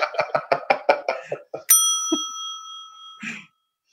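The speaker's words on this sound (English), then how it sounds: "the bell. Ding. Yeah, I get you the bell." Bicycle bell rung once, a bright sustained ding that rings out and fades slowly, following a quick burst of speech-like chatter and ending with a brief voice.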